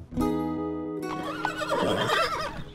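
A horse gives one loud, close whinny, a long pitched neigh that breaks into a rough, fluttering snort as it fades, no voices.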